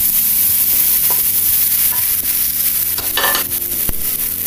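Ripe plantain sizzles and fries in ghee in a pan, a steady close crackle with occasional stirring scrapes and clinks, heard alone without talk.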